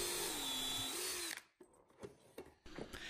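A power drill drives deck screws into a wooden squirrel feeder box with a loud, steady whine that changes pitch, then stops, followed by a few faint clicks and handling knocks.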